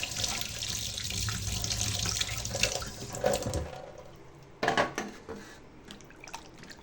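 Goat meat is washed in running water at a sink, a loud continuous tap-and-splash wash that cuts off, followed by sloshing and a few wet handling splashes close by.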